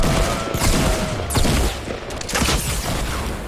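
Rapid gunfire from a Fortnite match, dense overlapping bursts of shots and booms crackling continuously and loudly for several seconds with no gaps.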